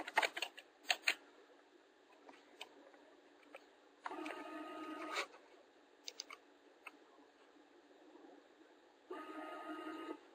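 A linear actuator indexing forward in 10 mm steps, two faint buzzing motor runs of about a second each, with soft ticks and clicks in the quiet stretches between.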